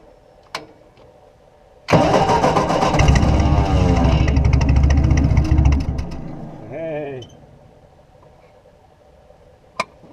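A 1954 Ford NAA Golden Jubilee tractor engine, long unused and primed with brake cleaner, cranks and fires into a loud, steady run for about four seconds before dying away, with brief talk afterward.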